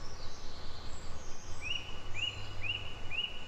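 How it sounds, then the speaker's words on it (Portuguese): Faint outdoor birdsong: a bird repeats a short rising chirp four times at an even rhythm over soft background noise, with no talking. "ouvindo o cantar dos pássaros"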